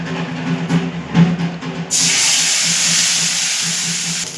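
Spice paste of ginger, cumin, dried chilli, tomato, onion and garlic hits hot oil, bursting into a loud, steady hiss after a few soft clinks and a low hum.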